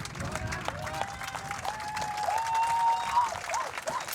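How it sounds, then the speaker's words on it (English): A crowd at a world championship fight event in Spottrup, Denmark roars and cheers steadily, with a loud mix of applause and shouting and a whistle-like tone rising above it. "This crowd's going crazy."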